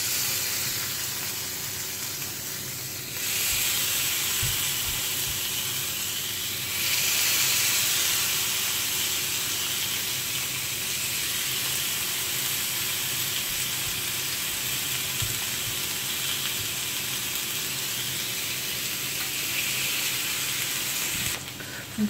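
Chicken skewers sizzle steadily in a heavy-bottomed frying pan, a continuous close hiss and crackle of frying that swells when the food goes in and holds without talk.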